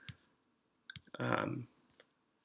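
Computer mouse clicks while opening a Clever login: a few sharp, faint clicks spaced across a quiet moment, with a brief louder rustling burst in between.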